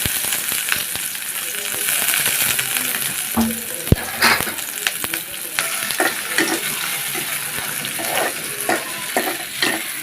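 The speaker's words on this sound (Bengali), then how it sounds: "এগুলো একটু লাল লাল করে ভাজে দিতে হবে" Potatoes frying in oil in a pan for a Bengali potato and shrimp dish, with steady sizzling and repeated scraping stirs and clinks of a utensil against the pan, no talking.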